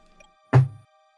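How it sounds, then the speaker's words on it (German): Knuckles rap once on a pull-out keyboard drawer under a desk: a single close, short, dull knock in an otherwise quiet room with a faint hum. "Ich habe einfach unter meiner Tastatur in das Ausziehfach geklopft mit den Knöcheln"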